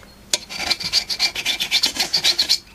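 A knife scrapes old foam surround off an Acoustic Research AR8 speaker woofer with quick, close, rhythmic rasping strokes, about a dozen in a steady run, with no speech.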